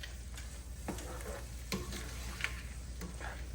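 A whole pepper fries in oil for seasoned callaloo rice in the Jamaican style, with a low, steady sizzle. A few soft stirring taps and scrapes sound close by. No one speaks.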